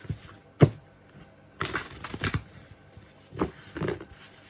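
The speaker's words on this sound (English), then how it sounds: "Just want to give it a good shuffle." Thick oracle cards riffle and slap together in a few short bursts while being shuffled, close up, with soft handling noises between.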